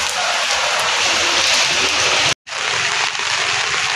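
Loud, dense patter of heavy rain drumming on the plywood walls of a small shop nearby, continuous hiss with one momentary dropout.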